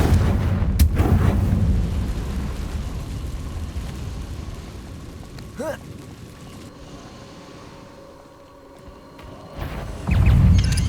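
Confringo fire spell blasts erupt in Hogwarts Legacy combat: a heavy booming burst up front, a rumbling battle bed, a whooshing streak mid-way and another loud blast at the end, with a voice heard briefly.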